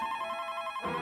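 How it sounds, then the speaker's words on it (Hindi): A telephone ringing in a household scene, a steady electronic ring with sustained tonal harmonics, loud and close, running through the whole moment before it cuts to a different tone near the end. "जरा तुम फोन उठाना।"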